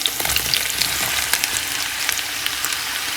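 Meat sizzling and frying in a hot pan for Chinese fried rice, a steady loud crackle with scattered pops and light stirring scrapes throughout.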